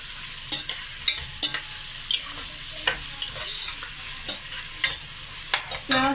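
Onions frying in a pan for a guar bean (gawar phali) curry, with a steady close sizzle broken by sharp stirring scrapes and clicks from a spoon against the pan.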